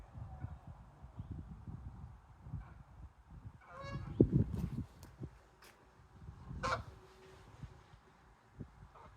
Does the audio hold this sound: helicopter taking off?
no